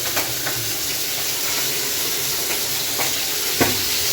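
Hot oil spatters and sizzles steadily in a frying pan, a continuous close hiss broken by occasional sharp pops and crackles, with no talking.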